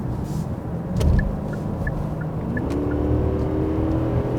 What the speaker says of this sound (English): So now let's put the car into sports and drive for a little bit.